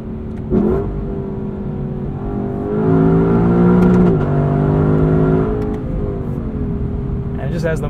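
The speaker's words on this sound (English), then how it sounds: "Has the most intoxicating rev limiter" A 2021 Lexus LC 500 coupe's V8 revs up and holds near its rev limiter, a loud, steady engine drone with rising and falling pitch, heard from inside the car.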